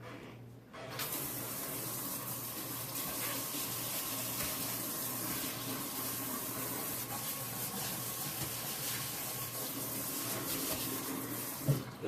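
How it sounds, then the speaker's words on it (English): A kitchen sink tap runs in a steady, unbroken stream of water hitting the basin for about twelve seconds, close and fairly quiet, with a couple of faint knocks near the end. "Now you need to turn the sink on and wash out the sink"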